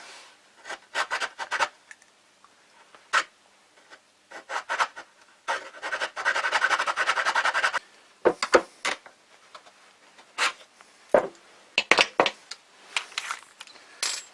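A round hand file rasps against a piece of wood in short, irregular bursts of scraping strokes, close and fairly crisp, with brief pauses between strokes.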